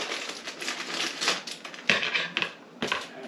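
A plastic package of rigatoni pasta is cut open up close, making short crinkly rustles and snipping bursts in a quiet room.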